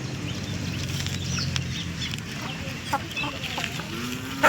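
A native-breed hen, mother of twelve chicks, clucks in short, scattered bursts nearby, over a low background rumble, with no one talking.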